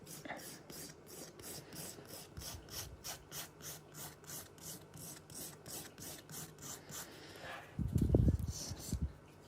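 An acrylic hard gel nail is filed in rapid, rhythmic back-and-forth rasping strokes, close and steady. A voice speaks faintly underneath, and a louder handling thump comes near the end.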